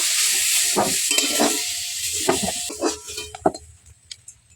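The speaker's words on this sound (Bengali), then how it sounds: "কুমড়োটা এখন কষা হয়ে গেছে, কড়া থেকে তুলে নেব।" Sautéed pumpkin is stirred and scraped in a hot wok, with oil sizzling steadily at first, then a series of clinks and scrapes as the pieces are lifted out and the frying dies down.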